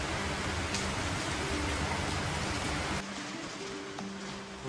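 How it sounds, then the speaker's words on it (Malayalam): Heavy rain that has been falling since morning pours down outside a home, a steady, loud, close hiss with a faint low hum underneath, easing slightly partway through. "നല്ല മഴ കേട്ടോ. രാവിലെ തുടങ്ങിയതാണ്."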